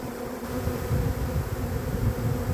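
A dense, steady buzzing drone from a swarm of honeybees moving toward a hive outdoors in fine weather, loud and close, continuous with slight swells and no voices.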